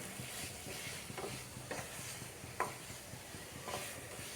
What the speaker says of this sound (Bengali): এবার আলু পটলের সাথে মশলাটা